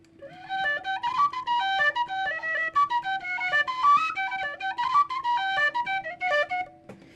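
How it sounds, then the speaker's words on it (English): Tin whistle playing an Irish jig: bright, quick runs of clear notes in a bouncing rhythm, close and fairly loud, heard alone over a faint steady hum. "I'm gonna redo the tin whistle because it sounds terrible"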